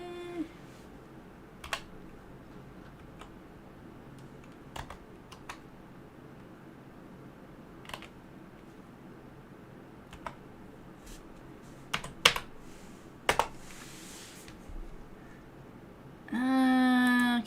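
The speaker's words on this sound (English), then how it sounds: "I gotta type without screwing up my nails" Sparse, irregular clicks of someone with long nails tapping at a computer keyboard, faint and scattered over a quiet room, ending with a short burst of music.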